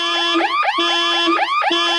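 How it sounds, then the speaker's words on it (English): A car alarm wails loudly and close, its rising and falling tone sweeping in quick repeating cycles without pause. "I set the car alarm off."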